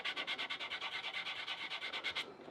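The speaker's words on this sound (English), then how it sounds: "I got me a piece of 1200 grit sandpaper" Rapid back-and-forth rasping of 1200-grit sandpaper rubbed by hand on a Glock trigger guard, steady rhythmic strokes about seven per second, close and moderately quiet, stopping near the end.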